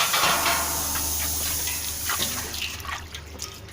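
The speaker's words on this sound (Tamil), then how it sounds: "இனிமேல் நீட்டாக கழுவி எடுத்துக்கோங்க" Running water rinses a freshly scrubbed brass vessel, a steady close hiss and splash with small drips and clinks across the whole stretch.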